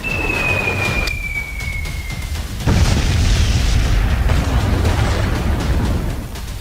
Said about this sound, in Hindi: एक एक कर तेज होता गया धमाकों का शोर।